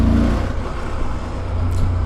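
A CFMoto 1000 MTX motorcycle engine surges after the throttle is released, giving a steady, close engine drone with a slight rise in the middle.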